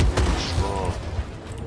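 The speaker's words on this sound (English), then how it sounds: "I'm shooting him." Gunfire in the video game Star Citizen, a quick burst of muffled shots followed by a rumbling boom and mechanical rattle, with faint voices underneath.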